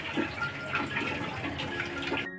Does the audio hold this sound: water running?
yes